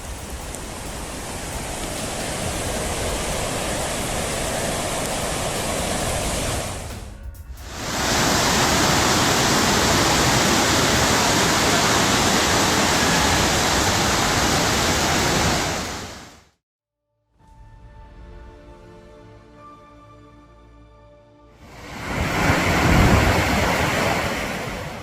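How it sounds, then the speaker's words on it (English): Massive waves roar against the Capitola coast in Santa Cruz as a thunderstorm rolls in, a loud continuous broadband crash that cuts out abruptly twice, with a quieter stretch between, and no talking. "Capitola's coast roared with massive waves as a thunderstorm rolled in"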